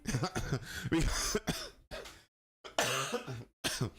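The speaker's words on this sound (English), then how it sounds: "you'd have to excuse the regular coughs" A few close coughs and throat clearings in quick bursts, separated by short pauses of silence.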